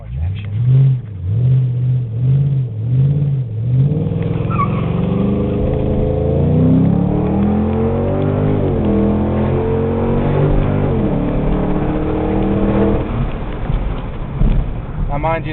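A 2005 Ford Mustang GT with a Borla catback exhaust, cold air intake and tune revs loudly indoors, the engine note climbing and sweeping through several sustained rises before dropping back, with brief voices at the start.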